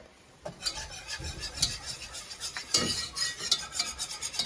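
Flour stirred into melted butter in a pan, a quiet scraping, rubbing stir with soft repeated strokes and occasional light clinks of the utensil.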